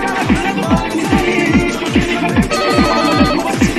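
A telephone rings repeatedly in a steady pattern of regular bursts during a comedic GTA San Andreas scene, loud and close, with music or background sound running underneath.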